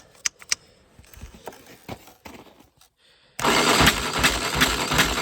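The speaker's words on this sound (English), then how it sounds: "that starter or something doesn't sound good when she's turning over" Snowmobile engine with choke pulled out, cranked by a rough-sounding starter: uneven bursts of turning over at first, then loud continuous cranking from about 3.4 s onward without catching.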